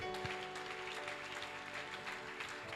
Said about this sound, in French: Est-ce qu'on peut acclamer très fort la parole de Dieu?